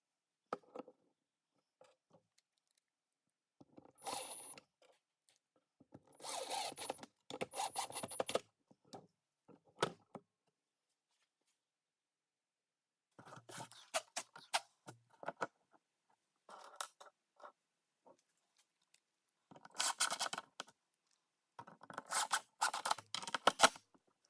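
A Kreg concealed hinge is fitted into a drilled cabinet door, with bursts of small metallic clicks, scraping and tapping separated by silent pauses, close and fairly quiet.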